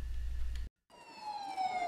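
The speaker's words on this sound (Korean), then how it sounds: "기후변화 위기를 알리는 사이렌이 울리자" A climate-crisis warning siren wails at a climate emergency rally in Incheon. It comes after a brief cut in loud, low rumbling background noise, and its sustained tone slowly rises and holds.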